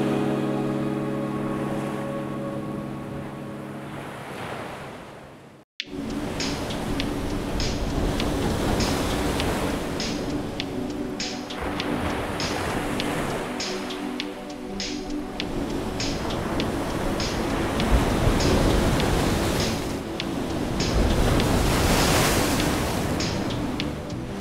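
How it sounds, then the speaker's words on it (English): King tide waves surge on the Oregon coast at Depoe Bay, a loud, continuous roar of surf that swells and rolls after a brief cut, with no voices. "the Oregon coast offers countless breathtaking locations to experience the power of king tides."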